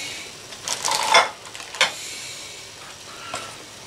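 Sliced mushrooms go into a cooking pan, producing a few brief scraping, sizzling bursts and light utensil clatter, then fading to a quiet hiss.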